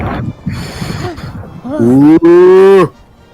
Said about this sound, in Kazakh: мына жерге сиырлар қойып тастағанын біледі